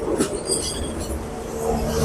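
A train rolls along the railway line through a market set up on the tracks in East Java, a loud, close rumble of wheels on rails with faint squeals above it.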